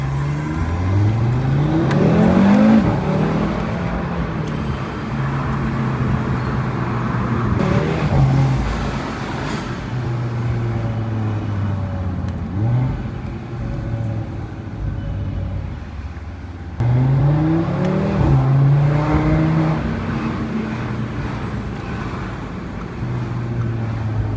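An Audi RS3 engine pulling hard under acceleration, loud and close, with rising revs climbing through the gears, a lull, then another surging run near the end.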